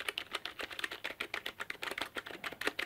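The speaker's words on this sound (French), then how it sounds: "Tout de suite on va faire la petite frappe, on va écouter le bruit." Rapid, fairly soft key presses on a budget non-mechanical gaming keyboard, a steady stream of light clicks close by with no voices.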